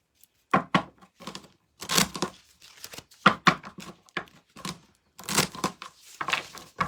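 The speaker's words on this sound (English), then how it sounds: "One more shuffle." An oracle card deck being shuffled by hand, giving repeated bursts of crisp riffling and card-slapping in an irregular rhythm, close and fairly loud, with no talking.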